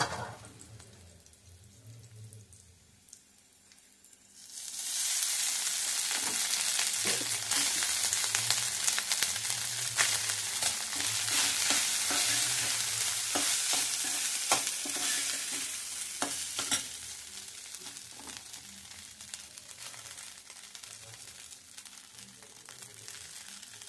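Hot cooked rice tumbles into a pan of fried jeera rice seasoning and is stirred, a quiet start giving way to a loud, steady sizzle with repeated scraping strokes that slowly fade.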